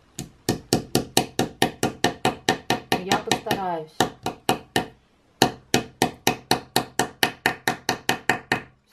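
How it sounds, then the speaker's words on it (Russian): A small hammer drives a picture hook into a wooden surface with a steady run of sharp, close taps, pausing briefly midway before the rapid, evenly spaced blows resume; a voice speaks a word at the start. "У меня молоточек маленький."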